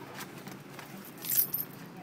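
A bunch of keys jangles quietly in a home, a few soft metallic rattles with a brief louder shake near the end, under faint background sound.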